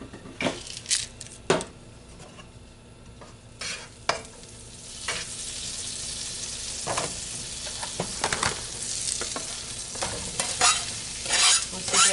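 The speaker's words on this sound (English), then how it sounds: "That butter starting to melt like that, you can throw your onion in" Onions being stirred in melted butter in a pan for keto cheesesteak stuffed peppers, with a steady low sizzle under repeated scraping stir strokes, close and moderately loud, no talking.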